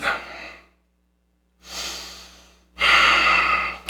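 Slow, deep breaths during a yoga pose, heard close and clear: an exhale, a pause of silence, a long inhale, then a stronger, louder exhale.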